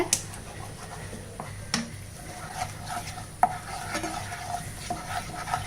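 Rice halwa being stirred in a pan with a spoon, giving intermittent scraping clinks and soft knocks over a faint background sizzle, close and moderately quiet.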